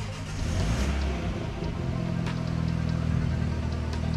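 A Mini John Cooper Works engine starts up and settles into a loud, throaty idle from its exhaust, heard up close with a low steady rumble.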